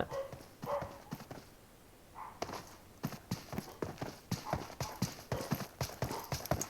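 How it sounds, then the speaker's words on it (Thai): Quick, evenly spaced footfalls of a character running in PUBG Mobile, positioned in front of the listener, come as crisp repeated steps after a brief pause, growing steadier and closer toward the end. "มาเสียงวิ่งด้านหน้า"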